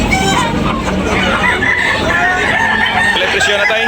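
Chickens and roosters crow and cluck loudly at a live poultry market in Tabunok, Talisay, amid continuous crowd babble and nearby voices.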